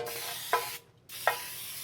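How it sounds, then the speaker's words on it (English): Two short sprays from an aerosol can, each a quick hiss, separated by a brief pause, close and fairly quiet. "we'll want to use pan baking spray that has the flour in it also"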